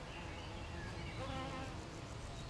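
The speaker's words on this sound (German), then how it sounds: "Aber zwischendrin muss ich euch jetzt mal die fleißigen Bienen zeigen." Bees buzzing among St John's wort flowers outdoors, a steady, faint insect drone running throughout with no talk.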